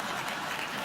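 A late-night talk show studio audience claps in a brief, dense burst of applause, steady and filling the room for under a second.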